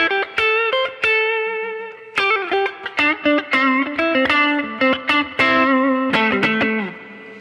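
Electric guitar on the neck pickup through an Axe-Fx III Super Reverb amp model, with a warm, slightly driven tone, a melodic run of sustained notes and quick picked phrases with reverb.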